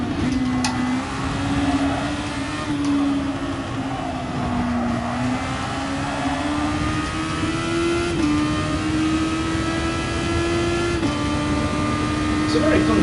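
An open-wheel race car engine in the racing game GT Sport holds a steady, high whine that shifts in pitch through gear changes, with a person talking over it throughout.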